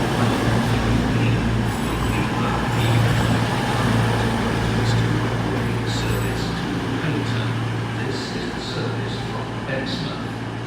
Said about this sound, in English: This Cross Country service is actually from Payton going to Bristol Meads.